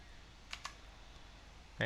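The Windows key on a computer keyboard is pressed, giving a couple of faint, close plastic clicks followed by one sharper keystroke at the end.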